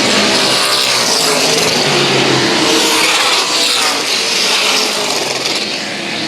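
Race cars roar at Central Texas Speedway, a loud, continuous wall of engine noise from several cars running together on the oval, with steady throttle and no pauses.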